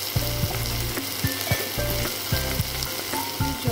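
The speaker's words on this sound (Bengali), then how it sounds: "এবার সবগুলো দিয়ে আমরা একটু নেড়ে করে নেব" A pumpkin mixture is frying and being stirred in a pan, with a loud, constant sizzle and repeated spatula scrapes and taps in a steady rhythm, close up with no talking.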